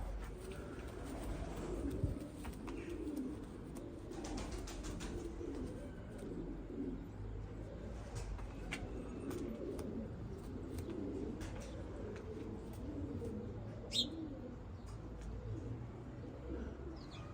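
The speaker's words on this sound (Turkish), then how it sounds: "Kuşlar gelmiş o da bakıyor." Soft cooing of pigeons or doves with occasional chirps, steady over a low outdoor rumble, fairly faint and continuous throughout.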